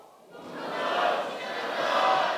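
A crowd at a Korean reunification rally shouts a slogan together, a broad swell of many voices rising after a quiet start and holding loud and sustained for about two seconds.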